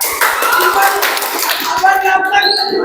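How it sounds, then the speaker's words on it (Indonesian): Classroom of students clapping hands in scattered, uneven applause for group presenters, with a teacher's voice and chatter over it. "Oke, tepuk tangan untuk kalian semua."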